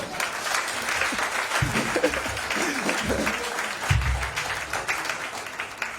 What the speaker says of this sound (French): si je prêche bien, acclame Jésus.